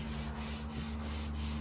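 A drill fitted for polishing runs against wood during restoration of an antique bureau, giving a steady, even rubbing whir with a low motor hum, continuous and fairly quiet.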